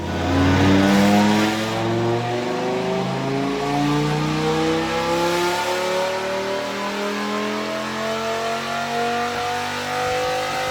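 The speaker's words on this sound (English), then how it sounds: "Now we're going to do a baseline run with our cammed Viper" A cammed 8-liter V10 Dodge Viper makes a baseline run on a dyno. Its loud, sustained roar climbs steadily in pitch as the engine revs through a long pull.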